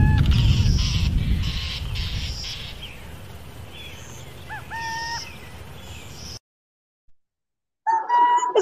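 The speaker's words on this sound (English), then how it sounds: "Now let's hear another cute one, the burrowing owl, another one that's native to California." A burrowing owl, a small owl native to California, gives several bright, close calls: a cluster of repeated notes early on, a few short chirping hoots in the middle, then a final call after a brief silence.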